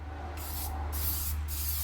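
A can of flat black spray paint hisses in a steady test burst before coating F-150 truck trim, the broadband spray continuous and close throughout, with brief dips in intensity between presses and a low hum beneath.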